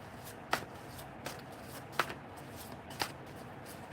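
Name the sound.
shuffling and cutting a deck of cards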